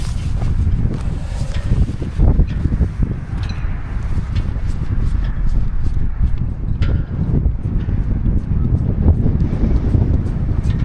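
Strong outdoor wind buffeting the microphone with a loud, continuous low roar and gusty rumble, close and unbroken for the whole stretch, with no talking.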